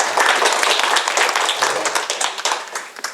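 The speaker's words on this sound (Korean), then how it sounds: "그래서 박수 쳐주세요." Audience clapping for a poet at a Buddhist lecture, a dense, steady burst of many hands close by that thins slightly toward the end.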